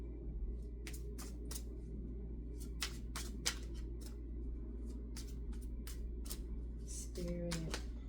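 Tarot cards being shuffled by hand indoors, a series of crisp quick riffling bursts and taps at close range over a low background hum.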